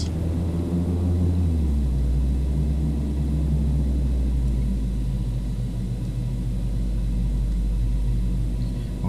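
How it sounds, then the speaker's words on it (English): A Fokker 50 turboprop in a flight simulator uses reverse thrust while braking after landing, giving a loud, steady low roar with droning engine tones that drop in pitch early on and then hold, with no talking. "Okay, reverse braking."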